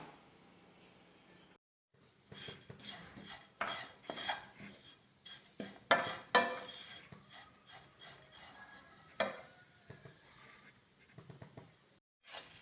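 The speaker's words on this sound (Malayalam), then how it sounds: "ഇത് ഒരു കപ്പ് ചിരകിയ തേങ്ങയാണ് ഇനി നമുക്ക് നല്ല പോലെ വറുത്തെടുക്കണം" A cup of grated coconut is dry-roasted in a pan, with a utensil scraping and stirring in close, irregular bursts of clinks and rasps between quieter pauses.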